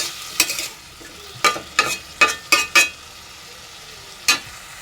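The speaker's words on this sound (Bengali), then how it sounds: "ফুলকপি ভাজি করব ফুলকপি" Cauliflower frying in a pan, with a steady low sizzle broken by six sharp scraping strokes of a spatula stirring it, close and alone without any voices.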